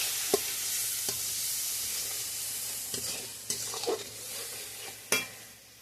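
Turmeric and chili powder fry in a pan, giving a quiet continuous sizzle broken by several sharp clinks and scrapes of a spoon stirring, with no talk.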